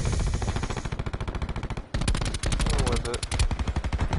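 An automatic weapon called the Rampart fires long, rapid bursts in a video game, a loud, evenly spaced stream of shots with a brief gap, while a voice speaks over it.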